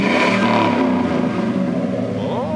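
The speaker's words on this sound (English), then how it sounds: "Rev it up." A Chevrolet Silverado truck with dual exhaust revs loudly and steadily up close, engine note holding strong before climbing in pitch at the end.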